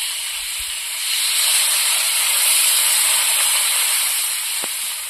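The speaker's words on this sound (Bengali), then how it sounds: "ভালো করে কষিয়ে নিয়েছি, এবার জল দিয়ে দেবো।" Water poured into a hot pan of sautéed small fish curry sets off a loud, sharp steam hiss that swells slightly and holds steadily, with a faint clink near the end.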